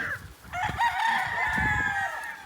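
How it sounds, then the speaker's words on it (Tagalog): A rooster at a game farm crows once, close and loud, in a long drawn-out call that rises and holds, with faint background noise beneath. "Ang gaganda kasi solid talaga mga manok nila, Boss Leo."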